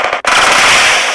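Gunfire in the Free Fire video game, one loud, sharp blast right up close followed by a dense crackling burst that holds for the rest of the moment.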